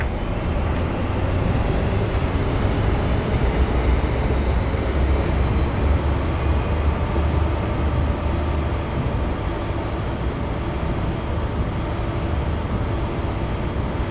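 An InterCity 125 diesel train in Train Simulator 2022 runs with a steady, loud engine drone and a high whine, accompanied by a continuous rumble of wheels on rails with no break.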